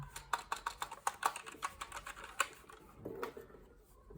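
Keys pressed on a PlayStation 3/PS4 keyboard, a quick run of light, crisp clicks close up, then a few softer scattered taps, faint and alone.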